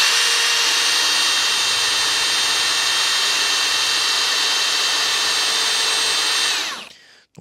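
An AEG BSB18BL2 cordless drill with a Forstner bit whines steadily at high speed while boring into an MDF board, then spins down and stops near the end.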